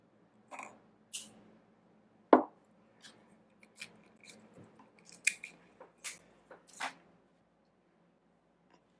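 Quiet, sparse snips and clicks sound as a length of Soft Flex beading wire is cut for teardrop earrings, each cut short and close, with pauses between and no talking.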